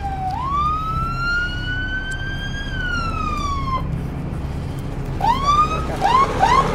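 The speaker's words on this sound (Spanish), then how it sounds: "ya viene la ambulancia" An ambulance siren wails in long rising and falling sweeps as it approaches, fairly loud over steady traffic rumble, then switches to a faster yelping pattern near the end.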